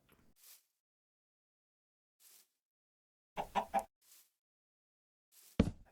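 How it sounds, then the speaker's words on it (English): Chickens in the video game Minecraft cluck in short, separate bursts spread across a quiet background, with a louder cluster near the middle and a sharp, close cluck at the end. "This is the chicken house now."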